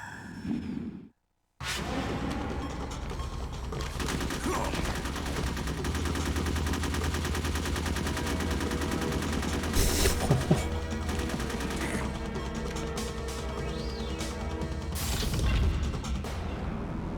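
Gunfire in the stealth video game Metal Gear Solid, steady sustained shooting over a constant low game rumble, with a few louder bursts near the end.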